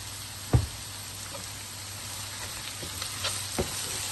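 Onion, ginger and garlic sauté with a pinch of salt in a pan as they turn light golden brown: a steady close frying hiss with a few sharp stirring knocks against the pan.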